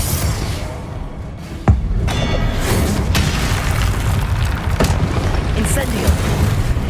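A Confringo explosion spell cast in the Hogwarts Legacy video game, a single sharp blast near the two-second mark over a dense, continuous rumble of combat noise.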